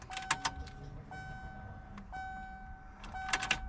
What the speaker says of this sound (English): It's my motherfucking fuel pump.